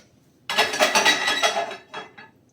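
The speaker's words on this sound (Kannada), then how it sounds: "ಈಗ ದೋಸೆ ಹಾಕಲು ಕಲ್ಲು ಇಡಬೇಕು, ದೋಸೆ ಕಲ್ಲು ಇಡಬೇಕು" A heavy stone dosa griddle set down on a stove gives a sudden close, loud clattering scrape of stone on metal, ringing for over a second, followed by a shorter softer knock; no voices.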